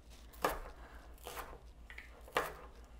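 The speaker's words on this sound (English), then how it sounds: "I'm just going to cut the ends off and just slice into circles" A knife slices large scallions into circles on a board, three crisp chops spaced about a second apart, close and clear with no talking.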